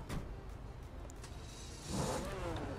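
Ferrari F40 engine in the GTA 5 video game, a quiet low engine drone with a rising rev swell near the end, faint and steady.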